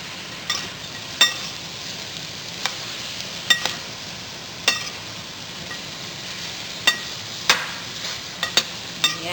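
Chicken browns in a pan for chicken halang halang as a utensil stirs it, a soft continuous sizzle broken by sharp scraping taps of the spoon against the pan at irregular intervals, close and fairly quiet.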